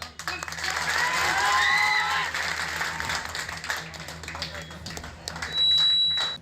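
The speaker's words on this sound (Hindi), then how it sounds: "वहां मौजूद उनके समर्थक ताली बजाने लगे" Supporters of a Congress candidate applaud at a campaign gathering in Rosera with loud, sustained clapping and crowd voices that swell, fade and swell again, while a shrill electronic beep rings out near the end.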